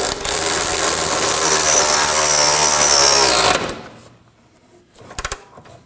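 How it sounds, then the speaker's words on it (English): Power tool snugging up ball joint bolts on a 2013-2019 Nissan Sentra front lower control arm, a loud, dense buzzing whir running for about three and a half seconds, then stopping, followed by a few sharp clicks. "Now I'm going to go ahead and snug both of them up."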